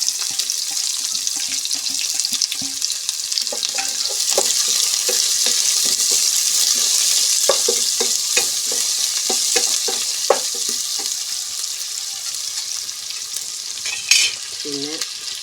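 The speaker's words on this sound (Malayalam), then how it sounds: "മൂത്ത് വന്നിട്ടുണ്ടെങ്കിൽ സവാള ഇട്ട് കൊടുക്കുക" Onions frying in ghee with cloves, cardamom and black pepper for Kerala neychoru, a steady close sizzle with clinks and scrapes of stirring throughout, no voices.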